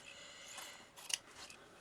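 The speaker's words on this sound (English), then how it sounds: "Just grab my scissors and cut the main part off first" Scissors snip through a fabric sampler tag mounted on card, a few quiet, crisp cutting strokes close up, with a sharp snap near the middle and no talking.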